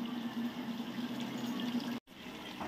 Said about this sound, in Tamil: இப்போ நான் எட்டு டம்ளர் தண்ணி சேர்த்துக்கிறேன்